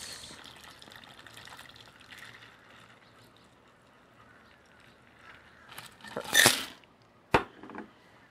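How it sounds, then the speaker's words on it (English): A Bahama Mama cocktail is poured into a sparkling glass, a brief liquid splash and gush rising near the end over quiet background, followed by a sharp clink. "we're going to pour it into our sparkling glass"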